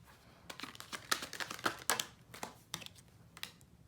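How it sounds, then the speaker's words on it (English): Quick crisp riffling and snapping bursts of cards being shuffled close by, in irregular clusters with brief pauses. "I'm only shuffling the cards that way"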